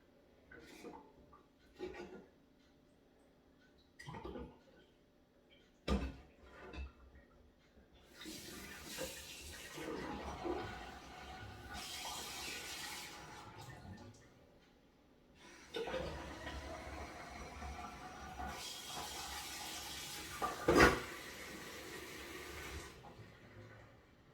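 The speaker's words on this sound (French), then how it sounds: "je vais me laver les mains" Hands washed under a running kitchen sink tap while cooking a courgette quiche: intermittent splashing water and rubbing in bursts, fairly quiet and close, with clinks and pauses between.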